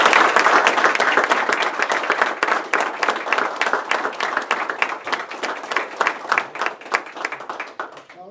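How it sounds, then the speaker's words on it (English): A city meeting audience gives a round of applause for people receiving life-saving medals: dense, loud clapping from many hands that thins and fades over several seconds. "We'll give these people a round of applause"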